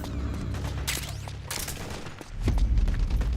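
Suppressing gunfire in Guns of the Patriots, dense overlapping shots and bursts with a heavier boom near the end, loud and continuous across the short span.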